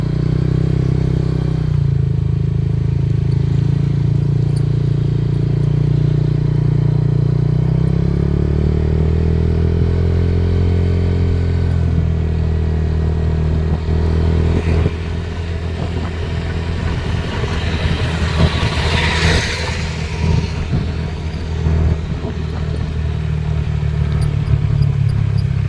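Motorcycle riding along a rural provincial road, its engine a steady close rumble throughout with clattering and scraping over the rough surface, shifting tone partway through as the ride continues.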